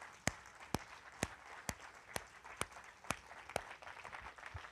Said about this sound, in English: I want to give you a round of applause for serving in this church.